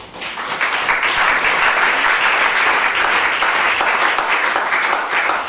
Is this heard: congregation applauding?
yes